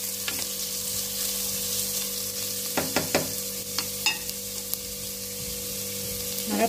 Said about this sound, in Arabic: خلي البصل يتقلى